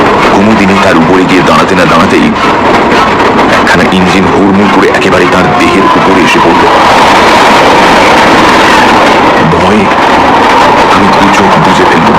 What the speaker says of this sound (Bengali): সাবধান ট্রেন ট্রেন